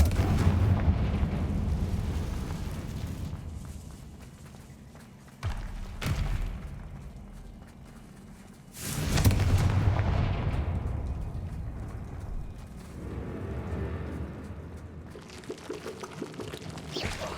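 Confringo fire spells go off in Hogwarts Legacy, with a few heavy blasts and booming fiery bursts spaced across the stretch over a rumbling game background.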